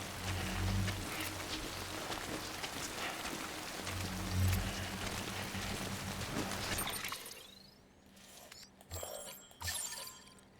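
Steady rain hiss in the video game Death Stranding fills the first seven seconds, loud and broadband with low rumbling, then drops away into quieter scattered sounds near the end.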